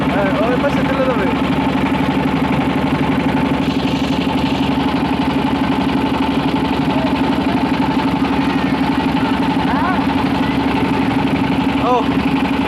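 A motor boat engine runs continuously with a steady droning hum, loud and close throughout, while people talk over it.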